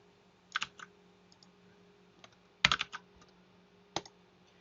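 Bursts of keystrokes on a computer keyboard while entering search keywords: a few quick clustered clicks, then a longer flurry, then a single tap, close and fairly quiet over a low steady hum, with no talk.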